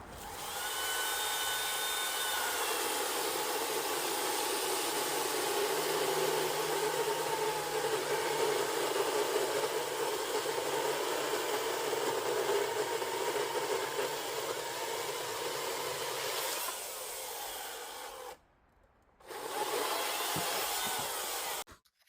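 Optimus OCS800 chainsaw cutting through a log, a steady high-pitched whine and rasp of the chain biting wood that holds for a long stretch, then drops out briefly and resumes before stopping.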